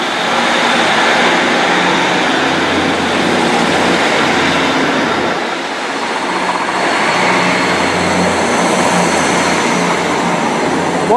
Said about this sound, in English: on the rear of it is a South West Trains 158